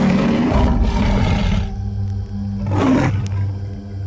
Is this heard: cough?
no